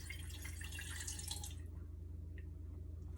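Water pours briefly into a cooking pot in a home kitchen, a faint splashing trickle that stops partway through, leaving a low steady hum.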